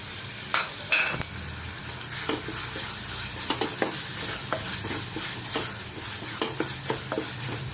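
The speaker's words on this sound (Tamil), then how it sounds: "இதுலேயும் கொத்தமல்லி புதினா இந்த அளவுக்கு கட் பண்ணி இதையும் வதக்கிக்கலாம்" Chopped tomato, coriander and mint are sautéed in a pan for a kurma, with a soft, steady sizzle broken by frequent sharp spatula scrapes and taps close by.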